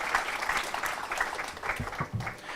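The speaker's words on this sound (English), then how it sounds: "Please, with a round of applause" Audience applause at a national conference, welcoming a speaker to the stage: dense, steady clapping from a crowd at moderate level, continuing throughout with no voices.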